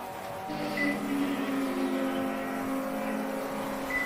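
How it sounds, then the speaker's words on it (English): Race car braking on a road course during an endurance event, a thin high-pitched squeal sustained over a steady engine drone that holds for several seconds without pause. "Can hear those brakes squealing."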